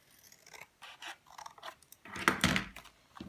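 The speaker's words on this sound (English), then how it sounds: "If I cut a slot inside here," Scissors cut a slot into cardboard for a sculpture, a series of close, crisp snipping strokes in short bursts, ending in a longer rasping cut through the thick board.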